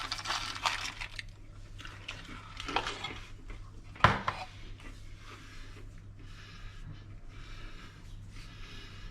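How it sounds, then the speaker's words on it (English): A handful of peanuts is scattered over a dish of curried Flygande Jacob with bacon, producing light clinks and rattles against the dish, with one sharper clatter midway and soft rustling afterward. "I'm going to take a nice good handful of peanuts, and I'm going to put this over the top."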